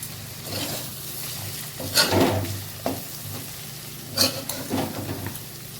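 Egg curry frying in a pan is stirred with a spatula, giving a soft continuous sizzle broken by a few louder scraping strokes, close by and with no talking.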